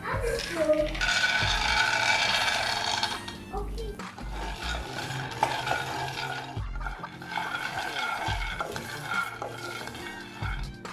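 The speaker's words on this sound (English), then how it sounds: "in the same kadai, I've taken the peanuts separately and roasting it." A spoon stirs and scrapes peanuts roasting in a kadai, giving repeated dry rattling and clinking strokes up close while a person talks over them.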